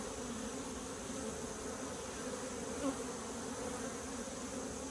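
Bees buzz in a steady drone around a ground nest with larvae, uncovered while baling hay in a field, filling the whole stretch at close range without any talk.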